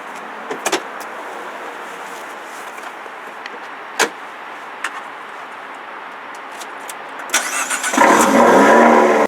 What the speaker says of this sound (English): the sound of the exhaust as it turns on